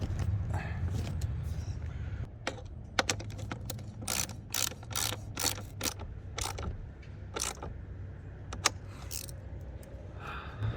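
A 13 mm wrench tightens the bolts of a Yakima SlimShady awning mount on a Subaru Outback Wilderness roof rack, giving close, repeated ratcheting clicks in irregular bursts over a low background hum.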